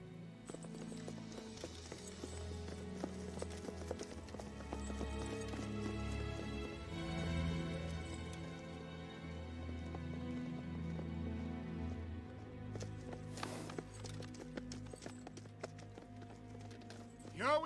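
Horse hooves clip-clop at an even walking pace through a film scene, steady and moderately near under a music bed, with a brief voice late on.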